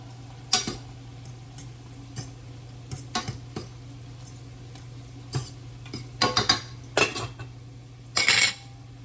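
A lid goes onto a pan of cooking tuna croquettes, bringing scattered metallic clinks and clatters, close and sharp, with louder bursts near the end over a steady low hum.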